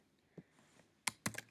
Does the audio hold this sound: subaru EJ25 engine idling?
no